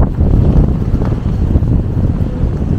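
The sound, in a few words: strong wind blowing on microphone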